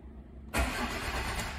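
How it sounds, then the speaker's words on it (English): A car with an immobilizer fault is cranked; after a short quiet pause the starter kicks in abruptly and the engine sound churns on loudly and steadily close by. "And when I try to start the car,"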